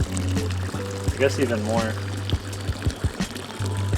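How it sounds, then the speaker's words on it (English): Water from 500 feet of DIY solar pool-heating tubing pours out in a steady stream, splashing and trickling in the background while someone speaks over it and a low hum runs beneath. "The water's coming out fairly quick, but it is going through 500 feet of tube."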